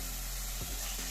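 Sliced onions with a little salt sauté in a pan for a Kerala-style vegetable stew, making a brief, soft, continuous sizzle with a light stirring scrape midway through.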